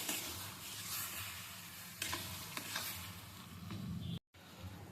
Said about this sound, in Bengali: একবার এটা নেড়ে নি